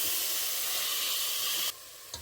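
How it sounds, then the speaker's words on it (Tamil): Soaked long-grain basmati rice hits hot oil in a pan with a loud, close hiss and sizzle that drops abruptly to a quieter fry, followed by a brief stir. "போட்டு கொஞ்சமாக வதக்கி கொடுப்போம்"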